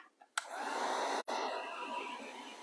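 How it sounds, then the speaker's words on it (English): A hair dryer blows steadily on a fabric pumpkin made with a tobacco basket, a close, continuous airy roar that starts abruptly and cuts out briefly once before resuming. "So I'm gonna dry that a little bit."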